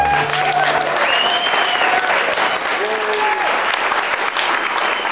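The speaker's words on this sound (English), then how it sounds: "So take a bow and a nice applause for yourselves." Audience at a gypsy swing jazz festival held in a barn applauding loudly and steadily, a dense crowd clapping close by for the full length, with faint tonal sounds threaded through.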